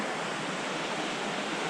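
A swollen, raging creek pours past in a constant churning rush of oxygenated water, loud and near, unbroken for the whole stretch with nobody speaking.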